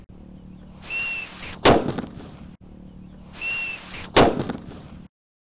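A Happy Power 3 firecracker is set off twice in a row, each time with a high whistling hiss followed by a sharp, loud bang and a short crackle, then quiet.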